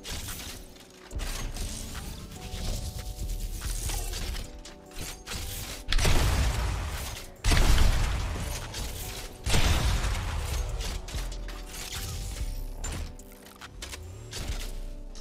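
Mechanical weapon-handling sounds from the Operator sniper rifle skin in Valorant: ratcheting clicks, metallic creaks and gear-like whirs, loud and close, coming in several distinct bursts with no talking.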